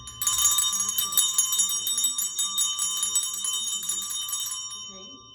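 Several bells ring together in a rapid, continuous bright jangle that fills the clip loudly, then cut off and fade near the end, with no talking over them.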